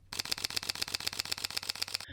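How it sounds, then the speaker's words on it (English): A Sony A7S III mirrorless camera fires a rapid burst of about fifteen crisp, evenly spaced shutter clicks, close and loud, with no talk. "I didn't expect the shutter to sound this good, as this is a video-centric camera"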